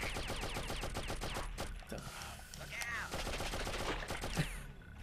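Rapid gunfire in the video game Oddworld: Abe's Oddysee, a dense burst of repeated shots over game sounds and chatter, with a brief pause partway through before more shots.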